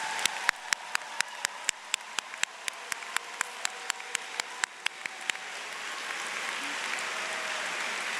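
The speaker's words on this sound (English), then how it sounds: "Let's have a big round of applause for these awesome graduates." Applause for graduates at the NC State College of Natural Resources spring 2024 commencement, starting with a single pair of hands clapping a sharp, regular beat that swells into broader, steady clapping from the audience.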